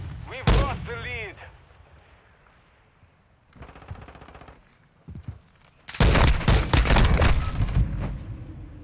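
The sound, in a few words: gunfire in video game Call of Duty Modern Warfare 2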